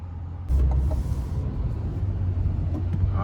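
A 2020 Chevrolet Corvette C8 3LT Z51 pulls away on a test drive, a deep low engine rumble that starts abruptly and holds steady, heard close from inside.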